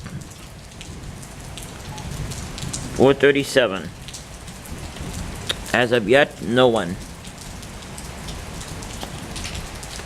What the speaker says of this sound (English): And we just heard thunder, and I don't see any lightning yet